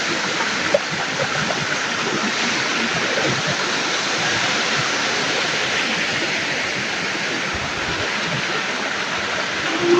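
Water rushing along a stream channel, a steady, dense broadband wash that runs unbroken and fairly loud for the whole stretch, with no voices over it.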